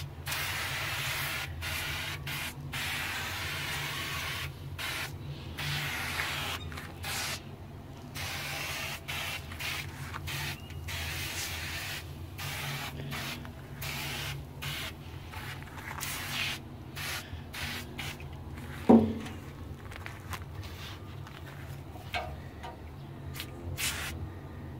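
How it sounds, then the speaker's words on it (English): An aerosol can sprays paint onto a metal BBQ pit smoker in long hissing bursts separated by short gaps, close and steady, with one brief clunk near the end. "Let me spray some on the door too."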